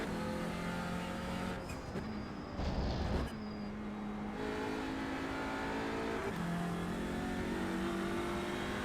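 A touring car engine in a racing video game at Road America drones and revs steadily, with pitch rising through gear changes and a brief roaring burst near the middle.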